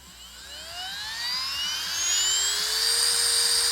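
A Milwaukee cordless drill motor whines up in pitch, its tone rising steadily over several seconds and levelling off at a high, loud, constant maximum speed.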